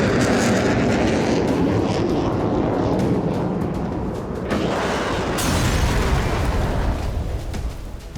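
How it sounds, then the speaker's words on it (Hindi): IDF fighter jets fly over Gaza with a loud, continuous roar that swells and shifts over several seconds. A sudden change in the rumble comes partway through. "आईडीएफ के फाइटर जेट लगातार गाजा के अलग अलग इलाकों में रेकी कर रहे हैं"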